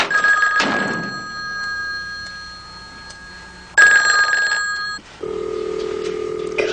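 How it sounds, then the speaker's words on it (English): An older telephone rings indoors in a 1982 medical drama scene, with two distinct bell-like rings separated by a quiet gap, followed by a lower electronic tone. "Come on, Kate, answer the phone"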